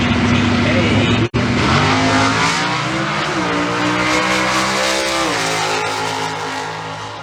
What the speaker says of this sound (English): It's got a Firebird with an older motor in it.